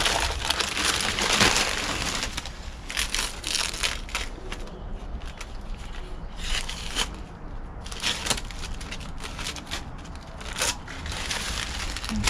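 Masking paper is pulled and crumpled off a freshly painted wing of a Rover P4 car, making a close, continuous crinkling and crunching with sharper tearing bursts throughout.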